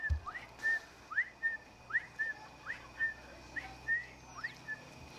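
A dolphin named Flagler gives a run of repeated, evenly spaced whistles, about a dozen short upsweeping chirps across the stretch, clear and fairly close with no talk over them.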